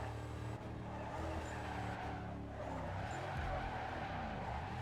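A car drifting through canyon roads in the racing game Need for Speed Carbon, with a sustained loud engine drone and continuous tire squeal and skidding throughout.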